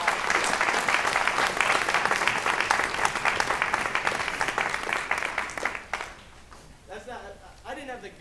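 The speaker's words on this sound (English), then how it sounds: "Let's give everybody one more round of applause." An audience applauds after high school jazz students play their solos, a full, dense round of clapping that gradually thins and fades out, with a voice starting to speak as the applause dies away.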